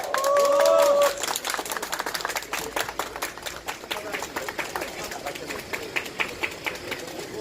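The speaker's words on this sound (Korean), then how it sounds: "뜨거운 박수 부탁드립니다." A crowd at an outdoor press conference in front of the Chinese embassy, about fine dust pollution, claps after a brief tonal whistle-like sound, with loose, uneven claps continuing in open air.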